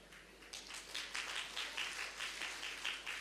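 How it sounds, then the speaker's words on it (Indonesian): A church congregation applauds, a dense patter of many hands clapping at moderate distance, rising a little and continuing steadily without talk. "Bangkit berdiri, tepuk tangan lebih keras lagi."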